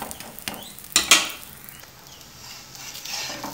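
An egg and wheat flour dosa is flipped on a hot pan. A spatula scrapes and clanks against the metal, with a sharp clatter about a second in and a soft sizzle in between.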